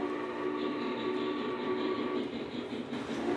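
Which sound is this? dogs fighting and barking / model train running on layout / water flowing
model train running on layout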